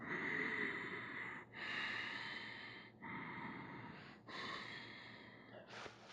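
Deep, slow breaths drawn in and pushed out through the chest while holding a yoga camel pose, several long breath cycles with short pauses between, close and fairly quiet, no talking.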